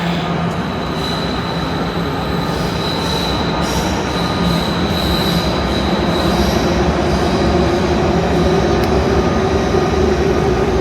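A regional train running from Cottbus pulls into Berlin Central Station with a steady, loud rumble of wheels on rails and a thin metallic squeal riding on top, continuous for the whole stretch with no voices.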